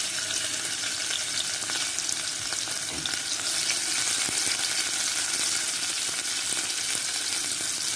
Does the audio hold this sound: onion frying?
yes